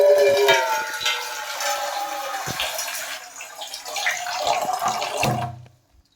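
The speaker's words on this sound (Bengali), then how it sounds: "আপনাদের সাথে কথা বলতে বলতে জল নিয়ে নিচ্ছি 1 গাদা, 4 জনের চা হয়ে যাবে।" Water from a tap pours loudly into a pot to make tea for four, a continuous rushing splash that eases slightly before being shut off abruptly near the end.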